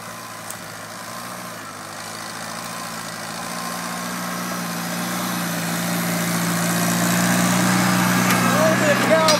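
A 1952 Farmall Cub tractor engine runs steadily close by, a low throbbing drone that grows slightly louder and rougher toward the end, with a voice talking faintly over it.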